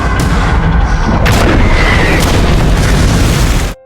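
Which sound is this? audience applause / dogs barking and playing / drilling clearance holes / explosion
explosion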